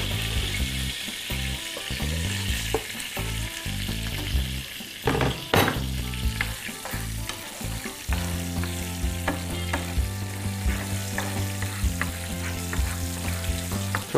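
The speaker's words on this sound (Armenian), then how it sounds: "Այս յուղի մեջ տապակում ենք սոխը" Onion fries in oil with a continuous close sizzle, broken by bursts of stirring clatter and scraping in the pan.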